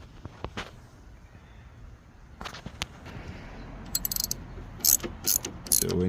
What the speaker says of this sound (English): to make your Toro Personal Pace go faster, you need to loosen this nut, or the wing nut